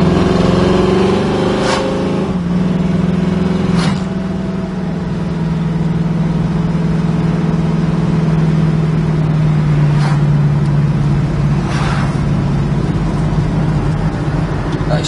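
A 1968 Chevrolet Camaro drives along with a steady, low engine drone at cruising speed, continuous and fairly loud, with a few brief higher-pitched clicks and rattles rising above it.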